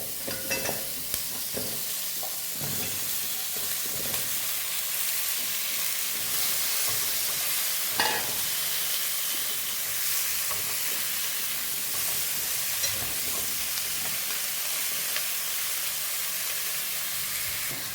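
Pumpkin pieces fry with onion in a pan on a gas stove, a steady close hissing sizzle broken by occasional soft stirring clicks, with no talking.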